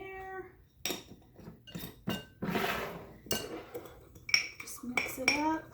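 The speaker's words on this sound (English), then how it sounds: "So I've got a 1/4 cup of sugar, just regular granulated sugar. And then we're going to do a tablespoon of cinnamon, ground cinnamon." Granulated sugar and ground cinnamon being mixed in a bowl, with a spoon clinking and scraping against the dish in short irregular bursts, quiet and close, with brief speech between the sounds.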